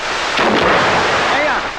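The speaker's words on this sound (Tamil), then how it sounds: "இப்ப வெடி வெடிச்சது அந்த சத்தம் கேட்கலையான்னு கேட்டேன்" A single muffled firecracker boom rolls out with a rumbling echo, heard from some distance.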